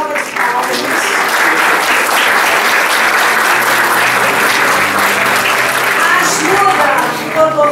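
An audience at a talk on new family configurations and adoption breaks into sustained applause, a dense, steady clapping that fills the room for several seconds.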